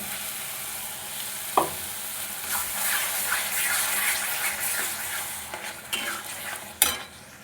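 Tomato paste being stirred and fried in a pan for egg biryani, with steady sizzling under several sharp scrapes and clinks of a spoon against the pot, and no talking.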